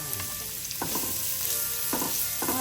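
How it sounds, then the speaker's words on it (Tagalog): Ginger and plenty of garlic fry in a pan for low-carb chicken, a loud continuous sizzle close up, punctuated by a few sharp clinks of a utensil stirring. "Inuna natin yung luya. Siyempre. Maglagay tayo ng maraming bawang."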